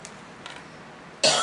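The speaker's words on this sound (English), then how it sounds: "I've been dealing with allergies, so I'm sorry if I have to stop and cough for a minute or itch my throat" After quiet room noise, one short, abrupt cough from someone suffering from allergies, loud and close at the very end.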